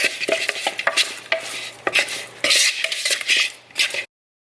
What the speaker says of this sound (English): And we're just gonna toss all of this together.